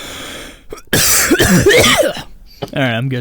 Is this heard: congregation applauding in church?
no